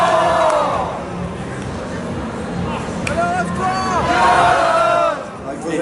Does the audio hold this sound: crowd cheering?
yes